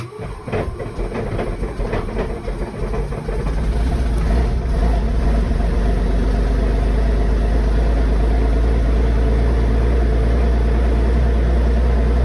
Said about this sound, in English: Now that the engine is started, the oil pressure is where it should be.